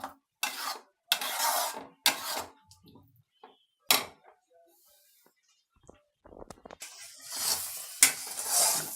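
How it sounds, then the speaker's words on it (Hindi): Spinach and corn fry in a pan, heard as short bursts of loud sizzling and stirring scrapes separated by near-silent gaps, close by, with a longer sizzle at the end. "पालक को भी हल्का फ्राई कर लेते हैं।"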